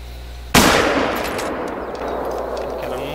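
A single sharp rifle shot in the hunting video game theHunter: Call of the Wild cracks loudly, followed by a long echoing decay that fades slowly into ambient noise.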